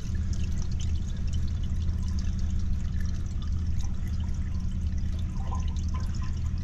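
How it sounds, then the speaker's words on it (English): Water pours and trickles steadily from a toilet flush into a blocked drain, a continuous close rushing with low gurgling rumble throughout. "Rhonda, can you flush again with paper when it fills?"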